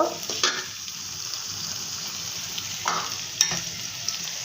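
Onion, garlic and green chili frying in a pan for a dried fish curry with radish and potato, a steady soft sizzle with a few sharp utensil scrapes and clinks, close and without speech.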